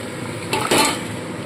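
Marinated chicken goes into a pan of cooked-down spices for a cauliflower chicken curry, making a short clatter and a scraping stir close by over steady cooking noise, with no speech.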